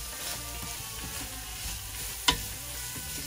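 Broccoli and shredded carrots sizzle in a pan with a steady, loud frying hiss, and one sharp stir or clink comes near the end.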